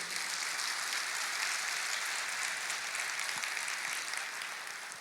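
A church congregation applauds in a continuous dense roar of many hands, even and sustained for about five seconds, fairly distant and filling the room with no speech over it.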